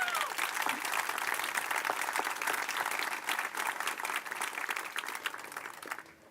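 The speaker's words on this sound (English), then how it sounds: "So I'd like to take a minute and just to recognize them with a round of applause." An audience gives a sustained round of applause at a community house centennial celebration, dense clapping that holds steady and loud, then tapers off near the end.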